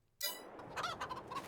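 A flock of chickens clucks in the Farming Simulator 22 farming game, a burst of overlapping clucks and squawks starting abruptly and continuing densely, close and fairly loud.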